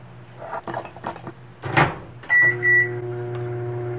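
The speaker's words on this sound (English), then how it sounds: "While that's microwaving" A microwave oven runs up close in a home kitchen while a mug cake cooks, a steady low hum with a higher whine, preceded by clicks and a door or button clatter.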